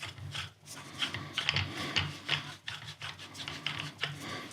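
A threaded fitting is screwed by hand onto an airgun barrel, making close, uneven metallic scraping and rubbing with small clicks in irregular bursts, no voices over it.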